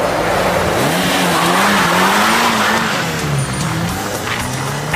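A car speeds away with its tyres squealing, a wavering high screech riding over a loud, close engine roar that holds for several seconds before easing slightly.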